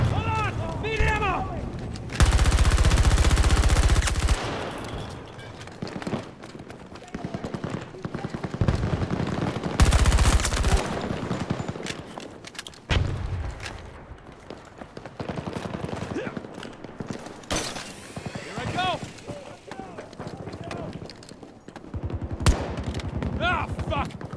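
M5A3 rifle firing in a video game, loud close bursts of rapid automatic fire and scattered single shots amid explosions and gameplay noise, with someone talking between the bursts.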